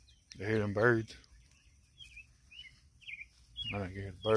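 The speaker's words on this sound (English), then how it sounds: "I hear birds chirping now." Birds chirp outdoors in a few faint, thin short calls between two stretches of nearby voices.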